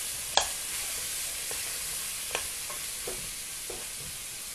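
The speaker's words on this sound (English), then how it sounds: "I'm gonna fry it on a high heat." Pork cheeks fry on high heat in a pan, a faint steady sizzle with a few soft clicks of stirring scattered through, no talking.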